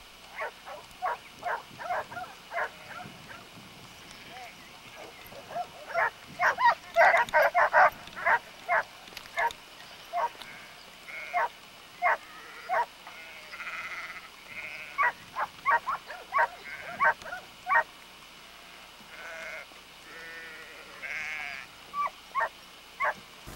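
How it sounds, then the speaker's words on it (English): A flock of sheep being worked by herding dogs in New Zealand bleats repeatedly, many overlapping calls at irregular intervals, with a few dog barks mixed in, outdoors and at moderate distance. "Notice how these dogs work the sheep."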